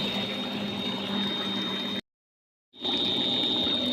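An irrigation water pump motor runs with a steady hum and rushing water while watering a mustard field, cutting to silence briefly before resuming.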